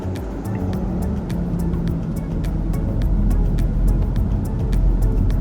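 Steady car traffic rolls along Ocean Boulevard in Myrtle Beach, a dense, close engine and tyre rumble with faint repeated ticking above it and no talking.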